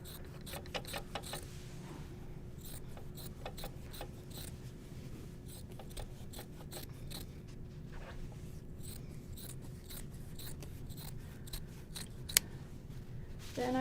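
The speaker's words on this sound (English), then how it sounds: "I'm going to trim this seam about 1/2 inch away just with a pair of scissors" A pair of scissors trims the seam of quilt backing fabric, giving a close, quiet series of crisp snips and slicing sounds in an irregular rhythm, with a sharper click near the end.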